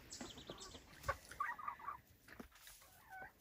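A chocolate Silkie rooster gives a few short, soft clucks close by, with scattered bird calls and rustling in a quiet backyard setting.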